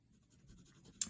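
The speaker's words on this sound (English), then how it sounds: "going to go in here with an H very lightly because I don't want to incise this paper" An H pencil lightly shading on paper gives a soft, faint, steady scratching, ending in one brief sharper tick.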